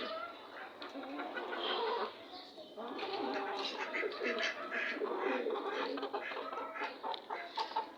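Tiger hens and other chickens on a small farm cluck and chatter continuously, fairly close, with a busy mix of calls throughout; a voice may be faintly present.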